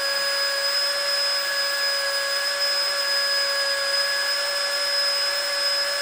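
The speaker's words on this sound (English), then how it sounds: "Sucking it down flat is going to draw all this air out of it and make it small enough that we could actually fold this thing up" A Nitecore AP10 rechargeable deflator draws air out of an inflatable, giving a steady, loud motor whine with sustained tonal hum and no pauses, running alone without speech throughout.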